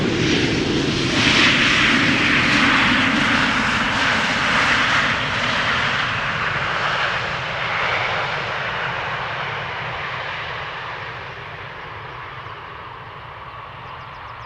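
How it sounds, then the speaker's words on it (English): A KLM airliner arriving from London Heathrow at Amsterdam Schiphol Airport, its engines roaring loudly with a broad whooshing hiss that slowly fades and lowers in pitch as it passes and lands. "This is KLM Flight 1002 with a little wheelie, arriving from London."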